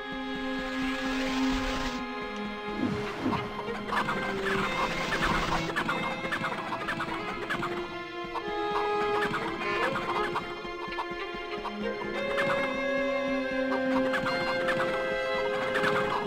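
Chickens cluck and squawk in the PS1 game MediEvil, with repeated fowl calls scattered across a busy game soundtrack, steady and fairly loud throughout.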